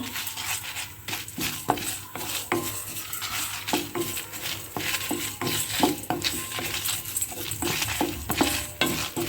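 Coriander, fenugreek, curry leaves and chillies fry in a pan for a temple-style South Kenara dish, with steady sizzling and repeated clinks of a spoon stirring against the metal.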